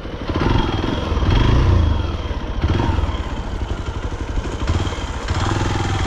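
A Hero Xpulse motorcycle riding off-road, its engine chugging loudly and close throughout with rising and easing throttle and rattling clatter from the rough ground.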